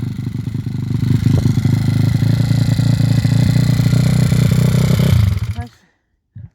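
Stomp 160 pit bike engine with a sticky throttle, running loud and close with a rough, throbbing high idle for about five seconds before it cuts out abruptly into silence.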